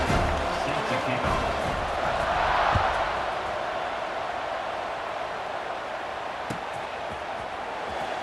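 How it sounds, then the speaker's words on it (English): Stadium crowd in the video game EA Sports College Football 26, a broad, continuous roar of fans that swells briefly then settles into a steady buzz, with a couple of sharp thuds. "this crowd is buzzing after that last score"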